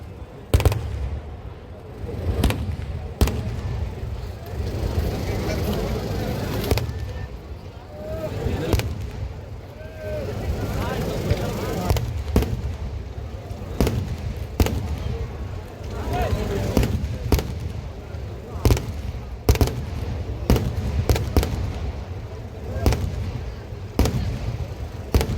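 Festival fireworks at the Chelakkara Vela temple festival in Thrissur, Kerala: loud, rapid bursts and sharp bangs crackle almost continuously over a dense rumbling roar, with some bangs louder than the rest.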